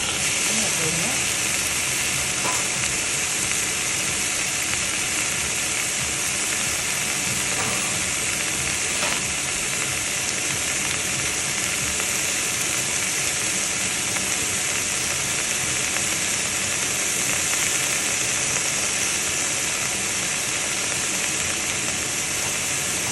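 Tofu sizzling in a hot wok for a vegetable stir fry: a steady, loud, bright frying hiss runs continuously, with faint stirring scrapes underneath.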